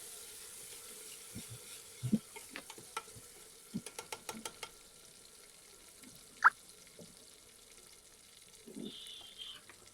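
Quiet frying of tomato in tempered oil with scattered clinks and scraping taps of a utensil, a few bursts of activity over a soft background hiss.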